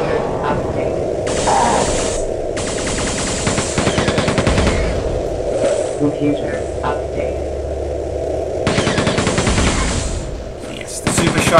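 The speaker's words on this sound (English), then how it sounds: "Yes, the super shotgun." Super shotgun blasts and mechanical gunfire in Quake 2, a series of loud, dense bursts filling the stretch under and between game talk, with brief pauses near the middle.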